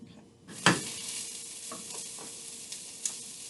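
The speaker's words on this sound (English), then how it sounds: "I'm going to let it heat up just a little bit, and then I'm going to add our onion." Onion dropped into heated oil in a pan: a sudden loud crackling burst, then a sustained bright sizzle with a few light stirring taps, close and steady, no voices.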